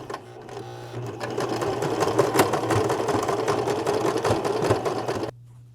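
Close sewing machine zigzag stitching a scrap-fabric loon bag, a fast, steady mechanical chatter that starts after a brief pause and runs for several seconds before stopping abruptly.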